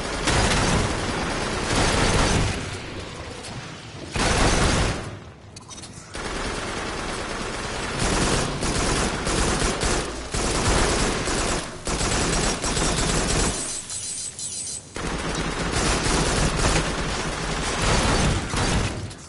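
Dense bursts of automatic and shotgun gunfire in the Farpoint co-op shooter, loud and nearly continuous with brief gaps for reloading, heard alone without talk.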